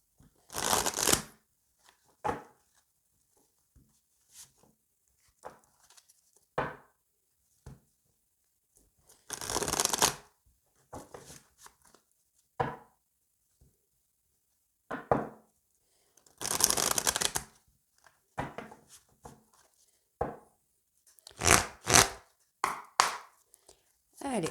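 Tarot cards shuffled by hand in repeated short bursts of riffling and slapping, each a few seconds long and separated by quiet gaps, close and crisp.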